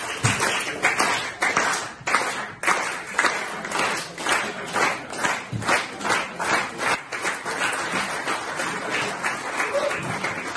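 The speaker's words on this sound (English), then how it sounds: "slow hand clap for our lovely friend here" Audience slow hand clap, a crowd clapping in unison with an even, steady beat that holds for about ten seconds, fairly loud and close.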